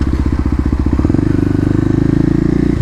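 Close, loud engine of a Kawasaki KLX250 dirt bike while riding, a pulsing thump that quickens in a shift to a faster, tighter putter about a second in.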